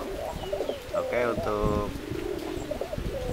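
Pigeons at a pigeon keeper's place in Karang Tengah, Kembaran, coo in soft, rolling bursts up close, mixed with someone speaking briefly in Indonesian.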